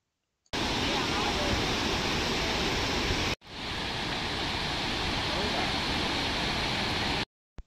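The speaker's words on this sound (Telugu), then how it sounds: "ఇండియాలోనే ఇది one of the widest water falls అంట." Steady broadband roar of rushing water at Bharachukki, one of India's widest waterfalls, loud and continuous with a short break in the middle, no talk heard.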